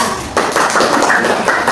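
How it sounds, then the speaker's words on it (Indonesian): Classroom applause for a group of students breaks out suddenly after a brief pause, a dense patter of many hands clapping at once, loud and close, continuing steadily to the end of the short burst. "beri tepuk tangan untuk kelompok 2"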